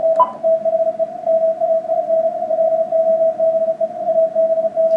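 A steady single Morse code (CW) tone from a radio receiver through a 250 hertz narrow filter holds on one narrow pitch, with faint hiss around it and little variation throughout.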